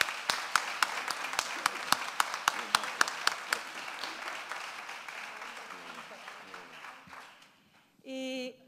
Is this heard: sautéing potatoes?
no